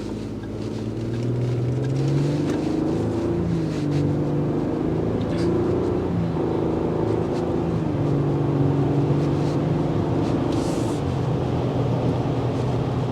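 Inside a moving 2024 Lexus GX 550, a continuous low rumble of tyre and road noise fills the cabin at moderate volume, steady and unbroken, with a faint occasional voice-like murmur beneath it.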